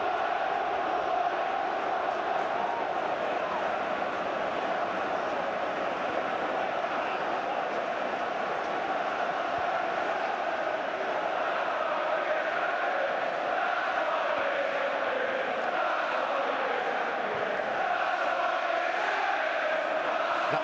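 A large football crowd at Old Trafford during an FA Cup match between Manchester United and Arsenal keeps up a continuous roaring chant, dense and distant-sounding, filling the whole stretch without pause.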